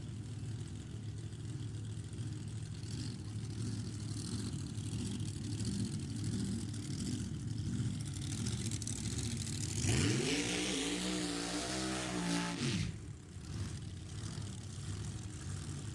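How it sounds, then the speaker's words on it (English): Drag race cars roar at a distance at an NHRA nostalgia drag racing event, then one accelerates hard past with a rising, sweeping engine whine before the noise settles back to a distant drone. "Race cars make race car sounds."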